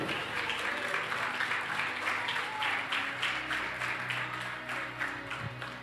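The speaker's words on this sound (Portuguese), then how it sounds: "Você pode aplaudir ao nome de Jesus." A church congregation at a Sunday service applauds in the name of Jesus, a sustained moderate clapping with a faint musical tone and murmuring voices underneath.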